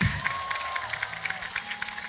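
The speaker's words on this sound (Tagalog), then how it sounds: "Pinakakusog nga palakpak." An audience at a mass baptism claps steadily, a dense, fairly faint patter of many hands with a faint voice in the background.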